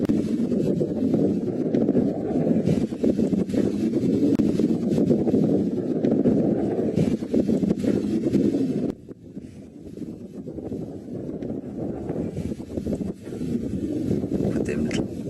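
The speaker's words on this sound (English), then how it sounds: "Bit of wind blowing." Steady outdoor wind buffeting the microphone in a perpetually windy area, a loud low rumble that drops briefly midway before surging back.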